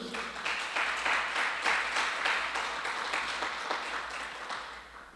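A church congregation applauding, a moderate wash of many hands clapping that swells and recedes over about five seconds, heard at a distance and tapering at the end.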